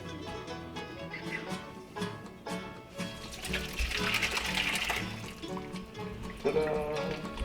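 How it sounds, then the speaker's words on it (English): Whey pours and splashes steadily through cheesecloth for several seconds, a wet rushing flow with a brief louder gush near the end. "And let's pour that right in here."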